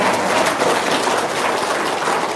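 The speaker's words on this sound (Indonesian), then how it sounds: "Tepuk tangan dulu Ibu dulu" A crowd of hundreds applauds a woman who has just been given two million, the clapping dense, steady and continuous throughout without a pause.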